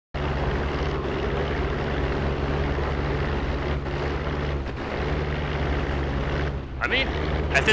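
A P-47 Thunderbolt's radial engine drones steadily in DCS, still running with no oil, a constant low propeller hum that wavers briefly near the end.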